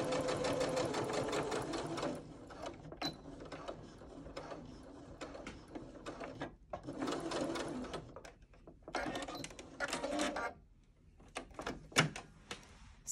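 A sewing machine running straight stitches on a stretch knit neckband, whirring in several bursts of a few seconds each, with short quiet stops and small clicks between runs.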